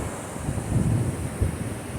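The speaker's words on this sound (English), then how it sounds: "You probably couldn't hear a thing that I said because it's so windy and so nice out here" Outdoor wind buffets the microphone with a steady low rumble that swells and gusts over a couple of seconds, with no talking.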